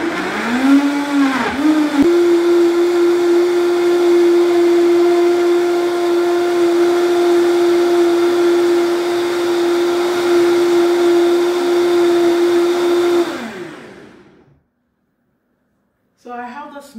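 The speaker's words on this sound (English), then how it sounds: "So I always like to start my blender on pause." A blender runs steadily for about twelve seconds, whirring through cucumber, orange, lemon, ginger and water, after a few short stuttering pulses at the start, then cuts out abruptly before a brief noise returns at the end.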